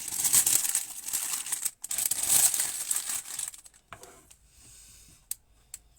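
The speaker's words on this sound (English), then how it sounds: "I'm just trimming the cellophane around the oasis." Cellophane crinkles and rustles as it is trimmed around floral foam for a spring trug of flowers, close and bright in bursts, then giving way to quieter snips and small ticks.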